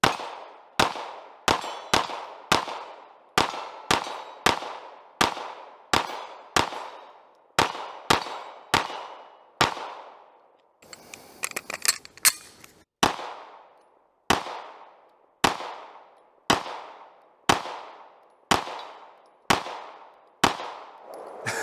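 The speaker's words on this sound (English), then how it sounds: "We're shooting this target at 25 yards." About twenty sharp pistol shots from a CZ P-10 C ported pistol fired at a target 25 yards out, spaced in a steady, fairly quick rhythm, with a brief clattering pause midway before firing resumes.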